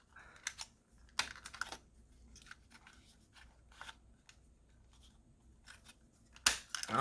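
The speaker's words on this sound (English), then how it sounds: "I'm just going to take the scissors and clean this one up." Scissors snip the corners of artist trading cards cut from food-package cardboard, giving several crisp, close, separate snips with short pauses between them.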